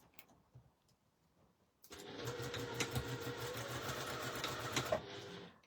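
A sewing machine stitches a zip into fabric, starting after a quiet moment and then running steadily for several seconds with a continuous whirring, rattling hum at close range.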